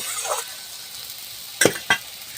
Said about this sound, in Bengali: একটু ভাজা ভাজা হয়ে যাক তারপর নুন দেব